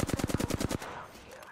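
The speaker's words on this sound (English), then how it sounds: "I'm taking fire, friends." A quick burst of about ten rapid automatic shots in the battle game Apex Legends fires at the player, loud and close, then cuts off into a short quiet tail.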